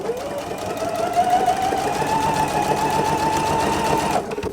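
A sewing machine stitches quilt pieces for scrappy hourglass units, a steady, fast mechanical whir running continuously for several seconds before stopping, close and fairly loud with no talking.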